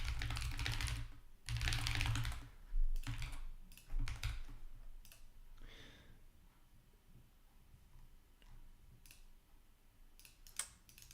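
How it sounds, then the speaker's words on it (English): New, loud computer keyboard typed on in bursts, dense clattering keystrokes in quick runs followed by sparser single clicks, close and fairly loud with no voices. "you guys can also hear my typing very loud because I got a new keyboard"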